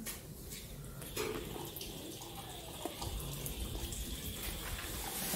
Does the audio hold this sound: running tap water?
yes